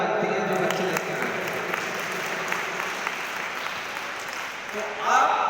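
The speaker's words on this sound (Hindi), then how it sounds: "जोरदार तालियां तो बनती है" A crowd claps steadily in sustained applause, fairly close, holding level and swelling slightly at the end.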